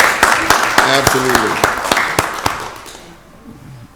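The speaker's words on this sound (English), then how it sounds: "Give them another round of applause." A small room of people at a county board of commissioners meeting claps in a scattered round that thins out after about three seconds, with one nearby voice speaking briefly over it.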